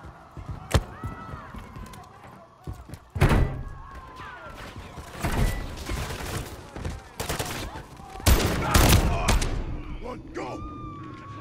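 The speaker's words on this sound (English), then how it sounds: "Hey, stop shooting people." Gunfire in the Modern Warfare III campaign: several loud bursts of shots and heavy impacts come in irregular clusters, mixed with game noise and voices talking in the background.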